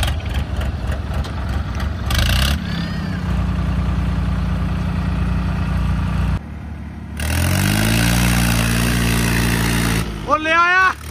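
A tractor engine rumbles steadily at idle before a tractor pulling contest between a Swaraj and John Deere machines. Partway through it revs up with a rising, throaty roar, and people talk nearby over the noise.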